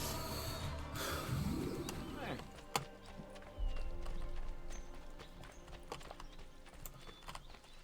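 Hollow horse hoof clip-clops tap along at a walking pace over a busy Assassin's Creed 2 game soundscape with chirping birds, with a couple of sharper knocks partway through.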